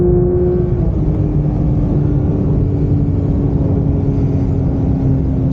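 A Porsche GT3 fitted with a Manthey setup and fresh Cup 2R tyres drives steadily after a hard run, its engine a loud, continuous close drone with a slowly falling tone and no voices.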